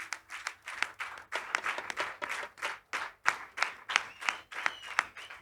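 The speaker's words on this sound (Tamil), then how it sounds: "அனைவருமே ஒரு நல்ல ஒரு கரகோஷங்கள் எழுப்பி அவரை அன்போடு மேடைக்கு அழைப்போம்." A crowd at a Catholic youth musical event in Chennai claps to welcome a guest onto the stage. The applause pulses in a steady rhythm, swelling roughly twice a second, fairly close and sustained throughout.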